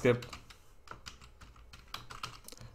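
Fast, irregular clicks of a computer keyboard being typed on while entering text during a WordPress website setup, close and crisp, with a faint voice in the background.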